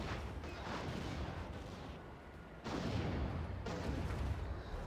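Automatic turrets fire at incoming missiles in the real-time strategy game Act of Aggression, a rumbling wash of distant cannon and gunfire bursts with muffled booms swelling and fading over several seconds.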